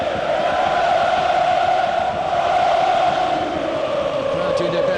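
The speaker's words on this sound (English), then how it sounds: "The crowd doing their best to get Trabzonspor going again." Stadium crowd roaring in support of Trabzonspor during a Europa League qualifier second leg against Liverpool, a steady dense wall of chanting and cheering with no breaks, fairly loud throughout.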